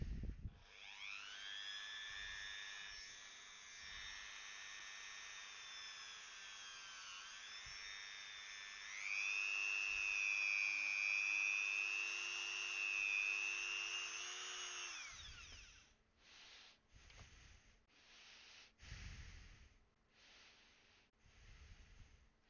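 A Dremel rotary tool cutting through thin cosplay foam gives a loud, steady high-pitched whine that shifts pitch as it bears down, then stops, leaving scattered clicks and handling bumps afterward.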